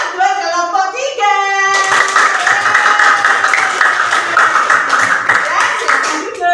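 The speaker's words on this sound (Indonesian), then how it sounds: "Tepuk tangan buat kelompok 3" A classroom of children claps for group 3 after their presentation, with steady, loud applause following a teacher's brief talk.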